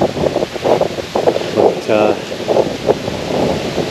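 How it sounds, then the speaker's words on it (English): Strong wind buffets the microphone on an autumn walk in Queen Elizabeth II Provincial Park, a steady broadband roar with gusty swells; a voice briefly speaks beneath it. "It's very windy."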